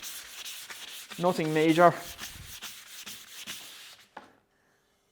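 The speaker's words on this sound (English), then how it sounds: "Just grab the sanding block, give it a quick run down the side," A sanding block rubs along a wooden edge on a display rack in a steady rasping stroke, with a brief squeaky scrape in the middle and a short quiet voice near the end.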